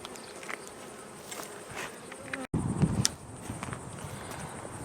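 Honey bees buzz steadily and faintly while two hives are opened and combined, a continuous hum with a brief dropout and a few soft handling knocks.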